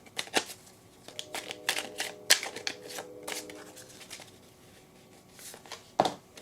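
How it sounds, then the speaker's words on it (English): A deck of Whispering Woods oracle cards being shuffled by hand, with a string of quick riffling and tapping bursts, some sharper snaps, and brief pauses between them, close and fairly quiet. "We're going to shuffle and see what the message here is."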